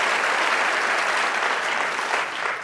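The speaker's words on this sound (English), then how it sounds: "Yeah, applause for Lenore." Audience applause for Lenore, a steady, close wash of many hands clapping that holds for nearly three seconds and thins slightly at the end.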